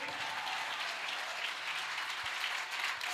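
A church congregation applauds in a steady, dense wash of clapping that stays loud and continuous throughout, with no break.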